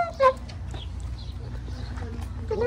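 A chicken clucking at Yerevan Zoo in Armenia, a short sharp cluck near the start followed by softer intermittent calls over low background noise, with people talking nearby.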